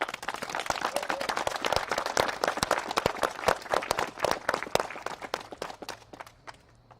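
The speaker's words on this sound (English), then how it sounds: "Round of applause for the panel." Applause for a panel at the Echoes Of The Enslaved 2021 event: close, distinct individual claps in a lively patter that thins out and fades over seven seconds.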